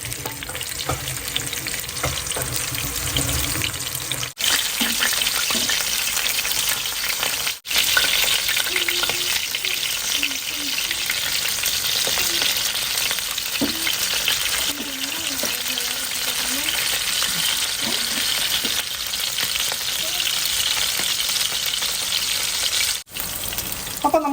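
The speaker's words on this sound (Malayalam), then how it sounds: "അപ്പം നമ്മുടെ പാവയ്ക്ക മൊത്തം നമ്മൾ ഫ്രൈ ചെയ്യാൻ വെച്ചിട്ടുണ്ട്" Stuffed bitter gourd fries in a pan, giving a loud, dense, unbroken sizzle close to the mic with faint spatula touches and a few abrupt brief dropouts.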